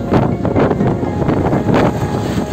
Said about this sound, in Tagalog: Grabe yung hangin, lakas gar!